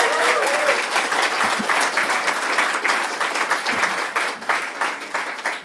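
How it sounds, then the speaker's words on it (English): A conference audience at a plenary session breaks into loud, sustained applause, with dense clapping filling the whole clip and tapering slightly near the end. "This sounds more like an applause"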